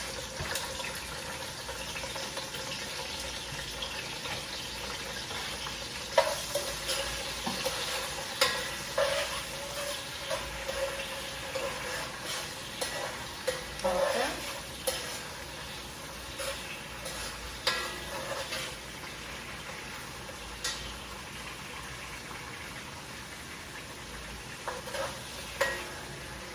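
Bell peppers and onions sizzle in hot oil in a home kitchen, with a steady frying hiss, occasional clatters of stirring utensils and brief running water, and someone saying a single short word.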